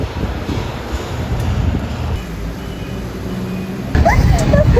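Steady wind rushing and buffeting against the microphone, with low rumbling gusts that grow louder near the end.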